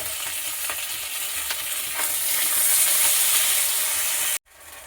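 Ginger, garlic, onion and chopped tomato sizzle in hot oil for a young jackfruit curry, a steady loud frying hiss with a few stirring scrapes that cuts off abruptly near the end.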